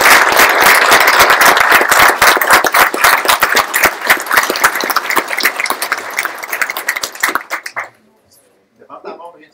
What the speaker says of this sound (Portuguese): uma salva de palmas para os organizadores e para os voluntários que estão aqui hoje permitindo isso